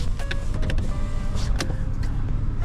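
Power window motors in a 2024 Toyota Wigo 1.0 E CVT whir steadily, heard close and fairly loud inside the car for a few seconds, with a faint click partway through.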